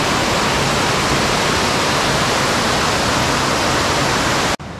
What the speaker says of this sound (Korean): 예, 쌍폭포네요. 쌍폭포. 이름 없는 폭포입니다.